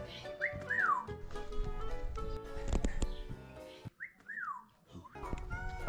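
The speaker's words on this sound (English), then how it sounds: "as soon as we walk off, it'd start whistling and catcalling us." An African grey parrot caged outside a shop in Marvão, Portugal repeats a rising-falling wolf whistle two or three times, close and clear, with street noise and rustling between calls.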